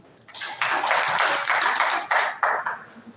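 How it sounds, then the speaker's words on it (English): An audience at an electrical engineering conference applauds the guests, a full, steady round of clapping that swells quickly, stays fairly loud for over two seconds, then tapers off. "Please, a round of applause as we acknowledge these great minds that are gathered here today."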